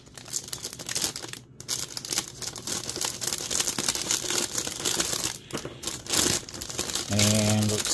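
A plastic bag holding Gundam model kit parts is crinkled and opened nearby, a steady rustling and crackling that runs throughout.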